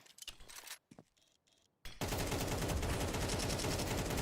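AK rifle fire in a Counter-Strike match at the Palace spot, a brief faint shot or two, then a loud, dense burst of rapid automatic gunfire that holds for about two seconds without speech.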